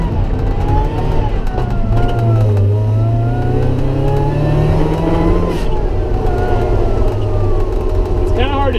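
A lifted, supercharged Mazda Miata on big mud tires drives along with engine drone rising and falling and supercharger whine sweeping in pitch, loud and close inside the cabin, with rattles throughout.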